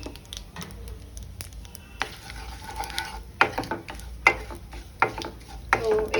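Cumin, kasuri methi, cinnamon and cloves crackle in hot oil for palak paneer, with sharp irregular pops and clicks of a stirring spoon. A voice talks faintly in the background.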